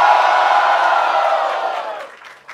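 At a Brazilian rap battle, the audience lets out a loud, sustained roar of cheering and shouting. It holds steady, then tapers off over about two seconds.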